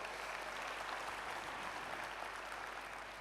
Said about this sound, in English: Don't you want to give a round of applause to our technical teams?